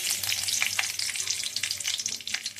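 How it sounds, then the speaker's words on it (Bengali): Bay leaves, cardamom, cinnamon and onion fry in hot oil for a Bengali fish-head muri ghonto, giving a bright, continuous crackling sizzle that is close and loud, with light stirring taps and no voices. "দেখো 2টো তেজপাতা, 1টা এলাচ আর 2টো দারচিনি এই তেলের মধ্যে দিয়ে দেবো। দিয়ে নাড়াচাড়া করে দিয়ে দেবো পেঁয়াজ,"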